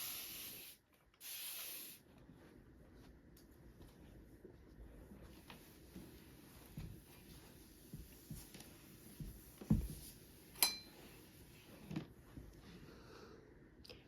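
Cloth wiping down a surface during a home cleaning session, a faint, steady rubbing swish that continues for many seconds, with a brief spray burst near the start and a few soft knocks later on.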